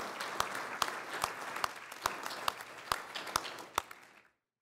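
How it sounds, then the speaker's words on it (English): An audience at an archery congress closing session applauds workshop presenters: a dense burst of clapping with a few sharp individual claps standing out, fading quickly to silence. "I would like you to all give a big round of applause to thank all of the presenters of the workshops"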